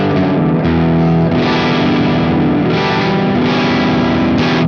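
Distorted electric guitar through a Mesa/Boogie Mark amplifier set to 2B mode on channel 3, playing loud, sustained, heavily saturated chords and chugging riffs with no gaps.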